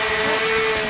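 A chainsaw in The Forest video game runs loud and close in a steady, continuous buzzing drone that holds throughout without any talking.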